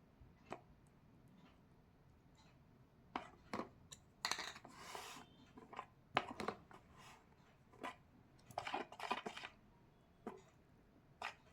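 Beetroot powder hair colour paste is stirred in a bowl, giving quiet, intermittent scraping and tapping strokes in short bursts, close and soft with pauses between, and no speech.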